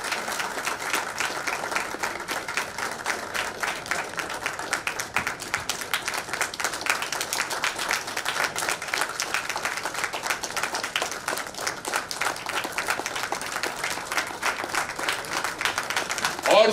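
Steady, dense applause from a large audience at a felicitation ceremony keeps going without a break, loud and close. Speech runs faintly beneath it.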